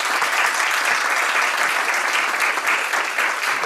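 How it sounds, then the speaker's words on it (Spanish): Dense, steady applause from an audience at a university keynote lecture in Mexico, loud and continuous throughout with no pauses. "les pido un aplauso para la"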